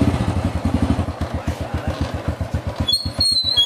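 A motorcycle engine pulses in a steady, close rhythm of low thumps, loud and rough near the rider, fading slightly before a brief high whine at the end.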